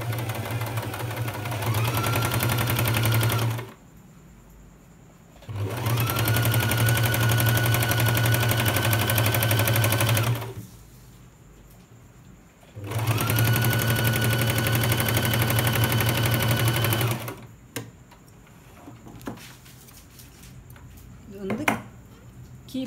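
A sewing machine stitches fabric for a patiala pant in three long steady runs, each several seconds, separated by quiet pauses, with a low continuous motor hum and rapid needle chatter, close and fairly loud.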